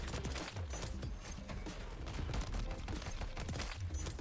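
Gunfire in the video game Modern Warfare 3: rapid, dense bursts of shots with repeated sharp cracks and low thumps, fairly quiet overall.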